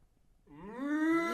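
A person imitates a cow, giving one rising, drawn-out moo that starts after a brief quiet pause and swells steadily, fairly close and on its own.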